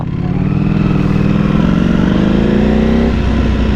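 A Triumph Speed Triple V4SR motorcycle on a ride, its engine droning loud and close with a steady rough hum that climbs slightly in pitch before easing off near the end.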